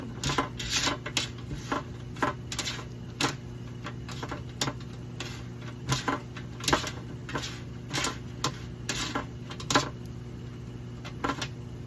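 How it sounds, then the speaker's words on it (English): Seasoned taco bowl ingredients being mixed with salt, with a steady run of light clicks and taps from a utensil against a bowl over a quiet background hum. "then you just mix it all in like this"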